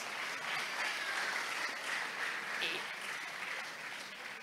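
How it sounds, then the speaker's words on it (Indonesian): An audience applauds a marawis percussion group after its first performance at an Islamic boarding school event, a steady wash of clapping that continues evenly and fairly faintly throughout. "Tepuk tangan dulu kelompok marawis."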